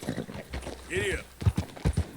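Horse hooves clip-clop in a Western video game as a rider sets off, a few irregular thudding footfalls mixed with game dialogue and voices talking over them.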